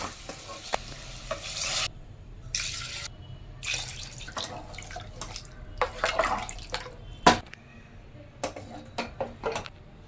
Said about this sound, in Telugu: సో కాబట్టి నేను దీంట్లో 3 గ్లాసెస్ వాటర్ వేస్తున్నాను.